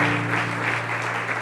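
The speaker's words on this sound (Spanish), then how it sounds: "Denle una ofrenda de palmas al Señor." A church congregation claps in praise, a dense, sustained wash of applause over a steady low hum, loud and continuous throughout the short moment.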